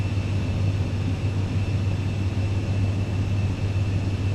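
A steady, droning aircraft engine with a low hum and an even whine, running at power while taxiing in Microsoft Flight Simulator 2020, constant and fairly loud with no talk.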